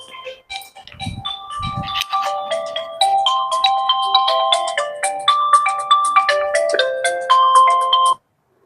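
A mobile phone ringtone plays a bright, repeating melodic tune for about eight seconds, loud and close, then cuts off abruptly; a couple of low thumps are heard near the start.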